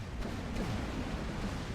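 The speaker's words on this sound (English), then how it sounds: "the projectile travels a couple of kilometres and explodes into flak" Flak projectile bursting in space in the game X3 Terran Conflict, heard as a dense, rumbling burst of explosive noise that holds steady for under two seconds, alone with no talk.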